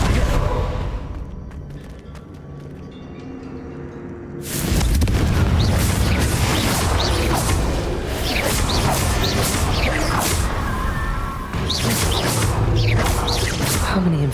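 Confringo blasting spell in Hogwarts Legacy: after a quieter stretch, a loud booming blast erupts and rolls on as a sustained crashing roar with scattered cracks and whooshes.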